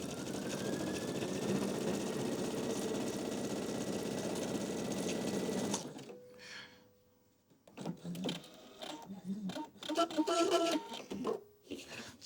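A sewing machine runs steadily, stitching a three-step zigzag seam across fabric for about six seconds, then stops, followed by quiet handling clicks and rustles of the fabric and machine.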